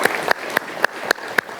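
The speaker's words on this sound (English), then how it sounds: "this is when I ask for the first round of applause" Sparse, evenly spaced handclaps at an employee service awards ceremony, about four sharp claps per second in a steady rhythm, moderately close, with no talking over them.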